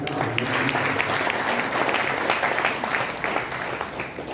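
An audience at a religious gathering gives the speaker a sustained round of applause, a steady wash of many hands clapping at moderate volume that fills the space without a break.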